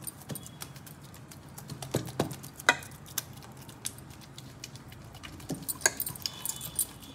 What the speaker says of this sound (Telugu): ఇలా గిన్నె కొట్టుకోవాలి.